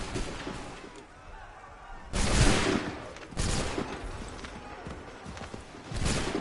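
Musket volleys in Assassin's Creed III, a few loud broadband bursts of massed gunfire separated by quieter stretches of battlefield ambience.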